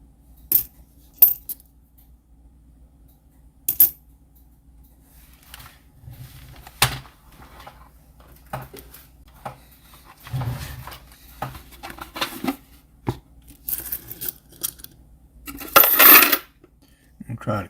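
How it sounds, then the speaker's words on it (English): Nickels are dropped into a bucket in a string of sharp metallic clinks and small rattling spills, scattered irregularly over a quiet background, with a louder jingling handful near the end. "putting these coins in this bucket"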